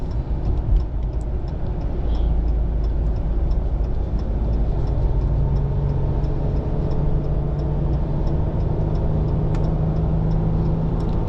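A 2020 Ram 1500 EcoDiesel pickup towing a Kubota accelerates at moderate throttle, a steady low engine drone and road rumble heard from inside the cab, continuous without talk.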